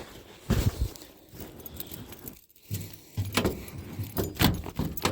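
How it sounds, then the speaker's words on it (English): A bunch of keys jangles beside a Flatfender Jeep on a cold day, with bursts of metallic rattling that come and go over several seconds, then a brief quiet gap before more jingling. "We got a fine selection of keys here."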